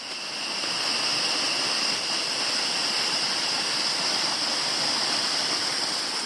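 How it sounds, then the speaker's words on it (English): Emerald Falls, a small three-metre waterfall with an extra cascade below it on a low-flow Queensland creek, pours in a steady, close, hissing rush of falling water, unbroken and with no voices. "This is Emerald Falls, a cute little 3 metre drop with an extra little cascade down here."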